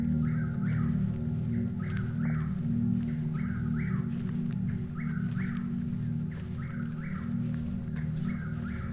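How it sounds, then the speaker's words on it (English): An unidentified bird calls repeatedly at dusk on Assateague Island, with short paired notes recurring about once a second over a steady low hum of background noise. "There's some bird that's making that sound."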